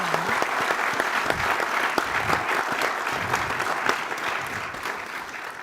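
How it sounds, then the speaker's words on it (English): Conference audience applauding panelists at an energy outlook launch event, sustained dense clapping from a large crowd at steady loudness throughout. "I'd like to have a round of applause for our panelists, for Emmanuel, for Fliss, for Nick, and for"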